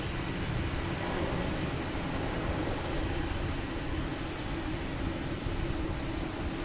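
A PAL Airlines plane at Boston Logan Airport, likely bound for Halifax, makes a steady broadband engine roar that holds at an even, fairly close level throughout, with no voices.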